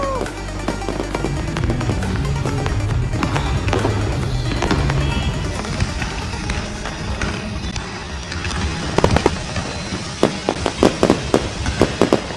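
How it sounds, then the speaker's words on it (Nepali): An outdoor Easter fireworks display at Sydney Olympic Park, with dense crackling firecracker bursts and sharp booms over a steady crowd roar, growing sparser toward the end with distinct loud pops. "अब यहाँ फायर वर्क हेर्नको लागि हामी यहाँ आएको छौँ"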